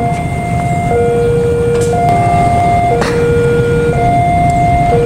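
Loud, steady rumble of the Joglo Semarkerto passenger train rolling past a level crossing near Banyumeneng, Yogyakarta, with a two-tone horn or warning signal alternating above the continuous roar.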